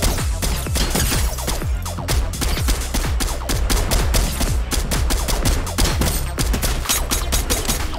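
Fortnite gunfire crackling in a dense, relentless stream of sharp shots, loud and close throughout, with many rapid impacts packed together and no pauses.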